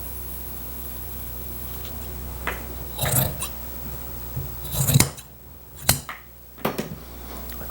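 Scissors snip through strips of cotton fabric for upholstering a boudoir chair, a handful of crisp separate cuts spaced irregularly over a quiet background, close and with no voices.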